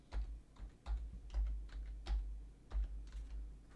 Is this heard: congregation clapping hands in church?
no